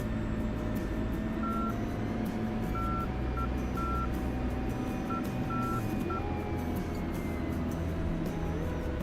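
A TACAN navigation beacon beeps in an aircraft cockpit as short, evenly pitched electronic tones in uneven bursts, heard over a steady engine drone that stays constant throughout.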